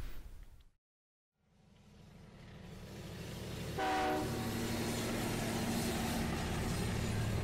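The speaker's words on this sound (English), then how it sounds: "the train pulls up to the customs office" A train rolls in toward a customs building on the North Korean side of a river crossing, its steady rumbling growing louder, with a horn sounding briefly midway and the running noise continuing afterward.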